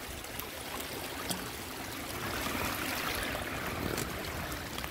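A South Wales river runs high over a mudlarking spot, giving a continuous broadband rush of flowing water with no voices.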